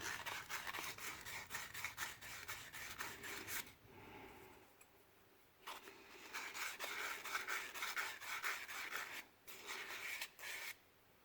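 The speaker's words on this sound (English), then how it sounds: "So you just want to scuff them up, give the glue a little something extra to bite into, to hold on to." Acrylic pen parts are scuffed before gluing, giving rapid back-and-forth rubbing strokes with a raspy, sanding quality. The strokes come in bursts with short pauses between them, close and fairly quiet, with no talking.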